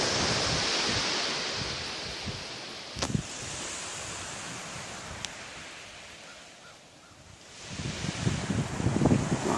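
Ocean surf breaks on a rocky beach on a dark day, with a broad, constant wash of waves and gusting wind buffeting the microphone. A louder surge of crashing water builds near the end.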